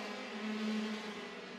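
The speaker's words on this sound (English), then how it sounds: "These KZ carts, 125cc engines, turning out nearly 50 horsepower" KZ racing karts with 125cc engines of nearly 50 horsepower, racing in a WSK Super Master Series final at Sarno, Italy, give a steady, high engine whine for a short stretch, heard at a distance.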